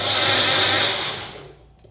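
A kitchen mixer grinder runs loud and close with a steady high whir, then winds down and fades out over the last half second, with no talking.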